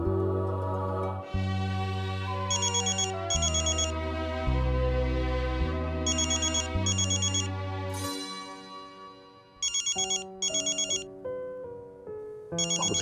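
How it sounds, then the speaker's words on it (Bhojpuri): A telephone rings late at night with a loud electronic melodic ringtone, repeating its tune in phrases for several seconds, with bright chiming accents and no voices. "अवधेश बाबू के फोन इतना रात के"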